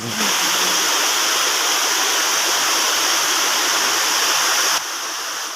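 A loud, continuous rush of Katwa Waterfall near Jatproll, Kollapur, pouring nearby, a dense steady roar that dips slightly near the end.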